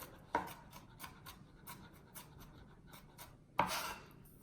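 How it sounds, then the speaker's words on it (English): A knife chopping the white part of a green onion on a cutting board, giving a few soft, quiet taps, with two sharper, louder cuts standing out, close and with no talking. "I'm just gonna go ahead and chop the white part of it. Chop it down just a little further."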